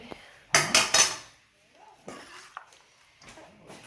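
A large spoon clanks and scrapes against a dish while mixing a meat pasta gratin, three loud close clinks in quick succession followed by softer scraping and stirring, with no talking.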